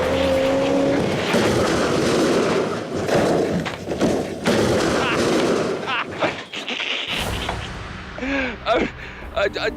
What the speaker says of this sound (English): that's what you call a crash, I think